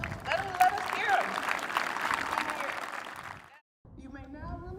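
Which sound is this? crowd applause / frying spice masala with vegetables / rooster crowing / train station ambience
crowd applause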